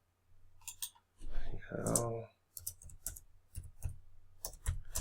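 Computer mouse clicks made while copying and pasting text: a quick run of sharp, close clicks interspersed with a voice speaking between them.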